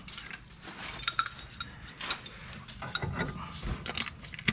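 A new nut being tightened onto a tie rod on a 2011 Lincoln MKS, heard as quiet, close metallic ratcheting clicks and faint clinks of tools, fairly steady with no talking.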